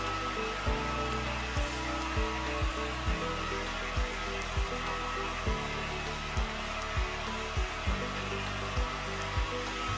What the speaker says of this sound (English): if you want to get that volume, blow dry in the opposite direction and then blow dry in the desired direction again afterwards